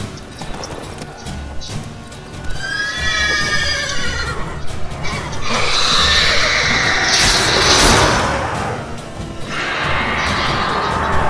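A horse in The Witcher 3 on PS4 lets out a loud, close neigh with a shaky rising and falling whinny, followed by heavy hoof clatter, crashing impacts and combat noise from the game.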